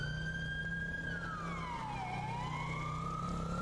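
Police car siren in the FiveM video game, a steady wail that sweeps down in pitch and back up, continuous and fairly loud over a low engine hum, with no talking.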